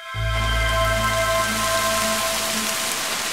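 Steady rain pours down in a tropical forest habitat, a dense even hiss of drops on surfaces holding loud and continuous throughout with no voices.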